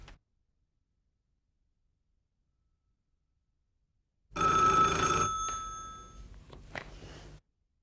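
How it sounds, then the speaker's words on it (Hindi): A telephone bell rings in a domestic scene from a Pakistani television drama. After a long silence, one loud burst of ringing starts, then trails off into fainter, broken rings before stopping. "सर, ये अख्तर साहब का फ़ोन है सर"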